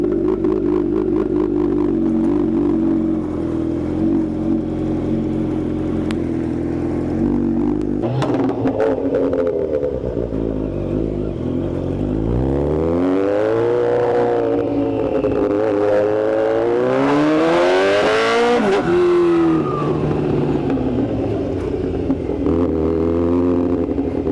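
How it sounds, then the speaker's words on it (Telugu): A KTM motorcycle at a riding event starts off and pulls onto the highway, its engine loud and continuous, rising and falling in pitch through several gear changes as it accelerates, with no talking. "సో ఇప్పుడు మన బండి తీసి మనం హైవే ఎక్కేద్దాం."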